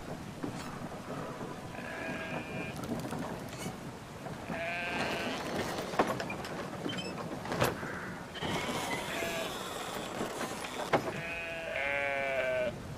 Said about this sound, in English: No, stop petting the sheep!